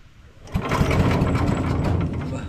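A small engine starts and runs steadily at a fast idle while warming up after an oil check, loud and close, with a busy mechanical rattle and no talk.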